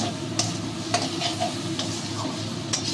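Masala for a prawn and banana-flower dish fries in oil with a steady close sizzle, broken by the scrape and tap of a spoon stirring the pan.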